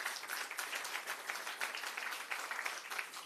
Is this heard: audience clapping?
yes